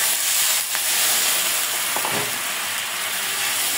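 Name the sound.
spice paste with dried chilli and salt sautéing in pan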